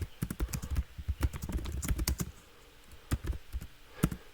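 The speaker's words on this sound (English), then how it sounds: "Hold on, I'm typing something." Rapid, uneven keyboard typing at close range, bursts of key clicks with a short pause partway through, then a few more scattered keystrokes.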